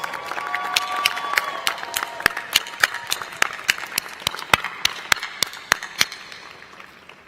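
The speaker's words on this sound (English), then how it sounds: "graduates, please show your appreciation with resounding applause" Applause from guests at a medical school commencement: loose crowd clapping with a few sharp, close individual claps standing out in an uneven rhythm, faint murmuring beneath, thinning out toward the end.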